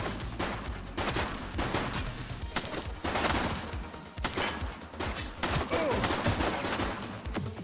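Rapid bursts of gunfire from a police shooting video game, The Precinct, loud repeated volleys in several clusters with short gaps, close and harsh.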